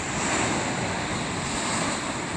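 Stormy, restless ocean surf during a high surf advisory at Ventura, heard as a loud continuous roar of breaking waves mixed with wind buffeting the microphone, with no voices.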